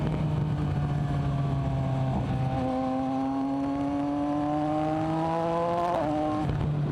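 A motorcycle engine revving under a light twist of a cable-actuated throttle, its pitch rising and falling in a smooth, continuous drone with a shift in tone partway through, loud and steady with wind noise behind it.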